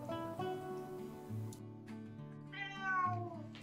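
A stray cat meows in the yard of a rural mountain house in February, giving a few drawn-out, nearby calls with no one speaking.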